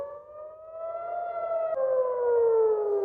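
Air raid siren wailing in Jerusalem during an Iranian attack: one loud, sustained tone that rises slowly, dips briefly and then swells again, steady and unbroken for about three seconds with no voices.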